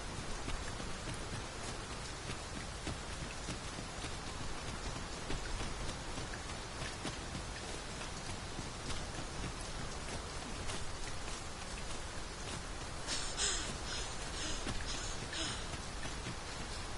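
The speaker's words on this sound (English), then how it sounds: "Raining still." Steady rain falls in a dense, even hiss throughout, soft and continuous with no breaks, with no talk.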